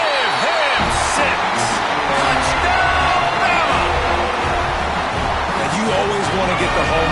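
Home crowd in a stadium roaring and cheering after an Alabama touchdown, a dense, loud, sustained wash of voices with whoops, under an announcer speaking.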